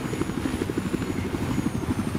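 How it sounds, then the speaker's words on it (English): A helicopter in Battlefield 4 gameplay, its rotor chopping in a steady fast rhythmic thump under a high engine whine, fairly close and continuous with no talk. "Chopper."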